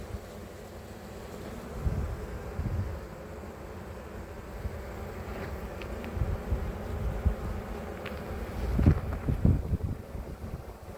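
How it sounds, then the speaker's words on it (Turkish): Steady, dense buzzing of many honeybees close by at an open hive during an inspection, with wind rumble on the microphone and a few louder passes near the end. "Arı bir anlamda coşmuş diye düşünüyorum ben."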